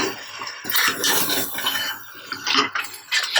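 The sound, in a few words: mixing Kashmiri red chili and salt with a spoon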